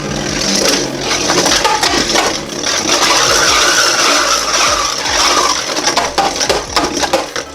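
A King Helios Beyblade spins fast in a plastic stadium, giving a loud, continuous grinding whir with scraping and rattling as it rides the ridge.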